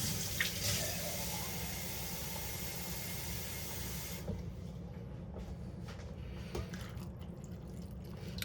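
Steady running water poured into a pot with a broad hiss that drops in brightness midway, continuing as a softer flow with faint clinks.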